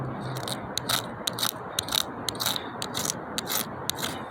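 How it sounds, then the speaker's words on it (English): A razor blade scrapes cured resin off a windshield chip repair in quiet, evenly spaced strokes, each ending with a small sharp click, about two per second. "Scrape it away."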